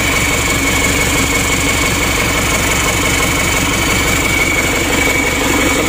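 A rebuilt Isuzu ELF NKR 71 diesel truck engine runs at a steady idle, loud and close, with a continuous low rumble and rhythmic mechanical vibration throughout and no talking.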